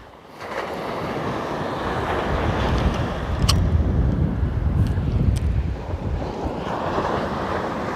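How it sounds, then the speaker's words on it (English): Strong coastal wind buffets the microphone at a fishing spot, a broad continuous rushing roar with gusts swelling midway and surf-like wash beneath, no talking. "this wind"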